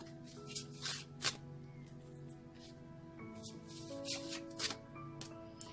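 Tarot cards are shuffled close by in a few soft, brushing riffles and slaps against a steady background hum with faint musical tones.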